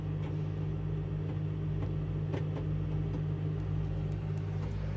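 Combination air fryer and microwave oven running in microwave mode in a camper van, a steady loud humming drone with a strong low buzz and faint rattling, continuous and alone.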